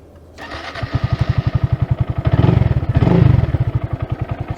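A 2022 Honda Grom motorcycle engine fires up and settles into a steady, rapid, thumping idle close by. The revs swell briefly twice before the idle evens out again, with no talking.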